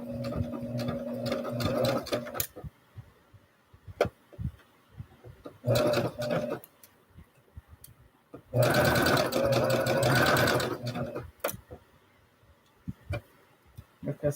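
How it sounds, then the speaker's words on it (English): A sewing machine stitches thin pajama fabric, sewing a back arm onto a plus-size pajama tee-shirt, in three close bursts of steady rapid whirring, the longest near the end, separated by quiet pauses with small handling noises. "And sew this back arm"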